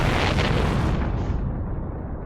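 A supernova explodes in Outer Wilds as a loud, roaring blast that swells with a rushing crackle, then dulls into a deep rumble fading away.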